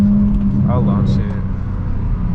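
A 500HP 2022 Toyota Supra launching from a stop, heard from inside as a steady, loud engine drone with a short rising rev in the middle. No one talks.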